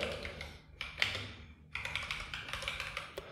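Fingers type on a laptop keyboard in quick, quiet, irregular bursts of taps with a short pause in the middle, close and alone.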